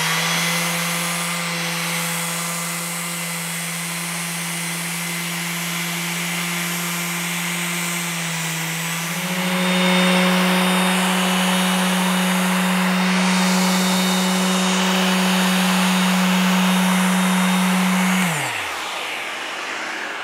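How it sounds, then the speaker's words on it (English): Detail sander with 120 grit working a live edge wooden table, a steady buzzing drone that shifts pitch midway before the motor spins down and stops near the end. "So I will have to do my final cleanup just using my detail sander with 120 grit"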